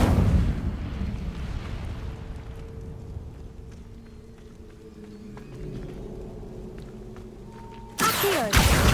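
Incendio fire spell cast in the Hogwarts Legacy video game: a heavy whooshing burst of flame that fades into a low rumbling drone with faint tonal effects, then a sharp loud crash near the end.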